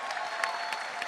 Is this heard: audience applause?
yes